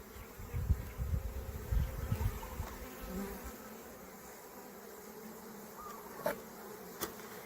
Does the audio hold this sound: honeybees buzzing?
yes